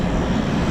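A Eurofighter Typhoon FGR4 jet roars past at RAF Coningsby, a loud, steady, broadband rush of engine noise filling the brief moment, with no voices.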